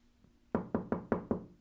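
Five sharp knocks on wood land in a quick, even rhythm, close and fairly loud, with no talk over them.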